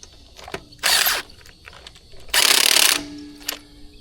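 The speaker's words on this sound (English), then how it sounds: "Now what we're going to do is going to go in a star pattern, get these snugged up" Wheel lug nuts tightened in a star pattern during a tire rotation with a power tool: two sustained loud mechanical whirring bursts with ratcheting clicks between them, heard close up.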